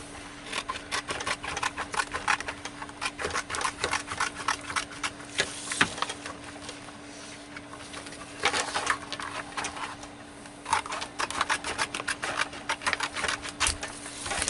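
A vinyl cutting machine slices sign vinyl, giving a fast, rapid stuttering clatter of blade strokes in bursts with short pauses, over a steady low hum.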